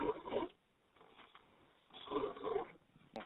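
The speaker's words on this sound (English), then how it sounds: "Listen to his breathing." An unresponsive man's heavy breathing comes over an emergency phone line in two loud, rasping, snore-like bursts, the first about half a second long and the second longer, with quiet pauses around them.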